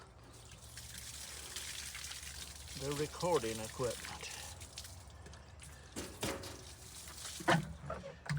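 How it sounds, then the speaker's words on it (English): Water poured and trickling over a person outdoors, splashing and dribbling in uneven bursts, close by, with someone talking over it. "the reason I keep pouring this water on me because it's feeling mighty good"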